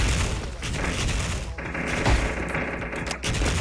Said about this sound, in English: Holy shit, those Fire in nades.